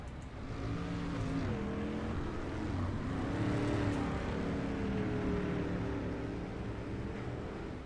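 A race car at a racing event roars past, its engine note rising and sliding in pitch as it nears and fades, loud and sustained over several seconds with no talking.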